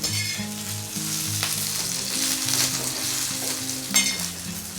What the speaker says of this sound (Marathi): हलवत हलवत मिरच्या भाजून घ्यायच्या आहेत गॅसची फ्लेम मी लोच ठेवलेली आहे लो फ्लेमवरती आपल्याला ह्या मिरच्या मस्त अशा फ्राय करायच्या